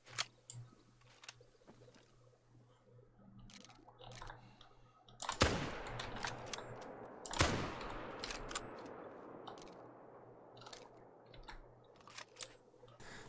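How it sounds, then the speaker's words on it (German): A rifle shot at a wild boar in the hunting video game theHunter cracks out as a sharp broadband blast, followed by a second strong report, amid scattered quieter clicks and a faint steady hum. "Denn ihr seht jetzt noch mal einen Abschuss von einer Sau."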